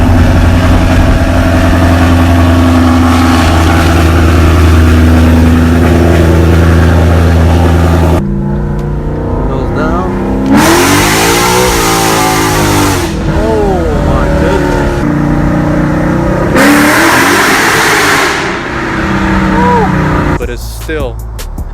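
A catless Ford Mustang GT with a Roush axle-back and X-pipe idles with a deep rumble and then revs loudly in several surges, close and harsh, with a person talking over it.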